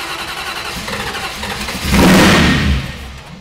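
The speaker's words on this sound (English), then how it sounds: "I'm gonna go in here and start this up." A 1964 Dodge race car engine cranks and catches, the starter churning before the motor fires into a loud, close roar that swells and then settles, with no one speaking.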